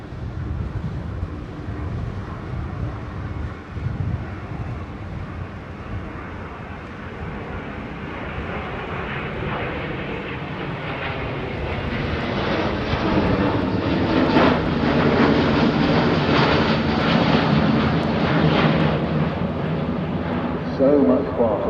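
An airliner powered by Rolls-Royce Trent engines flies past at an airshow, its broad engine roar swelling gradually from distance to a loud, rushing peak, with a commentator speaking over it.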